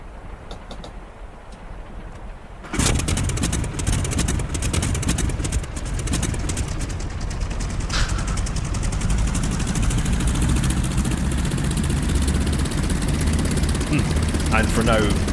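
A La-7 fighter's piston aircraft engine, using the I-16 engine sound, cranks and bursts into a loud, steady rough idle after about three seconds of quiet cockpit ambience, with crackling exhaust pops throughout.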